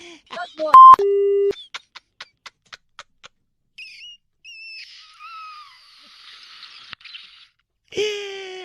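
After a phone call is cut off, a beeping disconnect tone follows: a long electronic tone, then a run of short evenly spaced beeps, later giving way to comic sound effects and voices.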